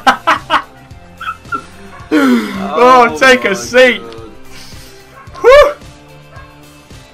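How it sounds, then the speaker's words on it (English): A dog barks, yips and whimpers somewhat in the background in several short bursts, mixed in with someone talking in a room. "even my dog's kicking off in the background if you can hear that"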